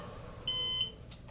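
A single short electronic timer beep, a clear high tone lasting about a third of a second over a faint room hum.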